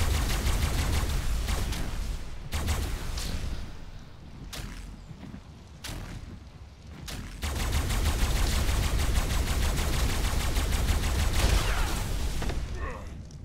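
Tech rifle gunfire in ARK, rapid repeated shots in dense bursts across most of the stretch, briefly easing in the middle, with a voice talking over it.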